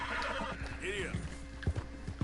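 A horse in the game Red Dead Redemption 2 gives a loud whinny, followed by the clip-clop of hooves setting off into a gallop, with a voice speaking over it and game music in the background.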